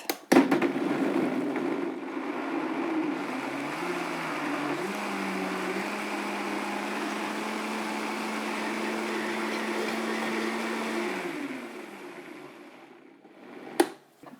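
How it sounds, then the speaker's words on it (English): A high-speed blender whirs continuously for about ten seconds blending a zucchini and tomato wrap mixture until smooth, its motor pitch shifting slightly, then stops; a sharp knock follows near the end. "Just pop it in your Vitamix or your Optima or whatever high-speed blender you have"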